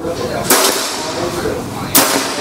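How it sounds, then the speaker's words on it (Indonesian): Two sharp cracks from a PCP air rifle (FX Daystate type) fired at a target, about a second and a half apart, each a crisp close pop over a faint background hum. "Tembakan yang terakhir ini ya"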